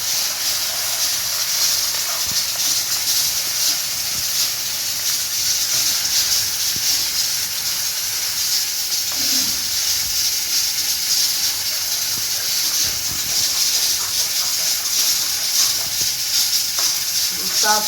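Continuous sizzling and crackling of garlic tempering in hot oil for saag, close and steady throughout, with faint background noises but no clear speech.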